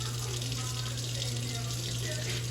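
Tap water runs steadily into a cooking pot for macaroni in a home kitchen, a continuous close splashing rush with a low steady hum underneath, lasting the whole moment without a break.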